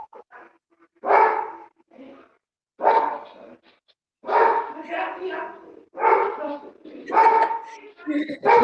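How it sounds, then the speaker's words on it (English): A dog barks in short bursts close by, with yips and a whimpering tone between the barks, spread across several seconds with gaps of quiet. "Oh, I didn't know Lucas had a dog"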